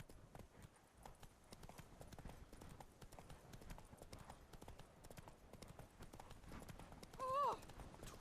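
Roach, the horse in The Witcher 3, trots with soft, regular clip-clopping hooves, quiet and steady, ending in a short whinny near the close.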